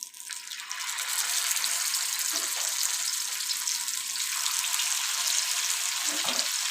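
Marinated sankara fish frying in hot oil gives a bright, steady sizzle that swells within the first second and holds loud and close, broken by a couple of brief low knocks.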